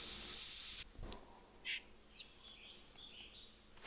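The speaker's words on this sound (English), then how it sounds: "So we're going to get our scent blocker spray." Scent blocker spray in the hunting video game Hunter Call of the Wild lets out one loud, close hiss that cuts off abruptly, leaving faint bird chirps in a quiet outdoor background.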